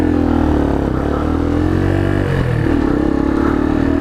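Kawasaki 636 motorcycle engine running close by: a loud, steady, rough drone that wavers slightly in pitch across the few seconds, with no voices.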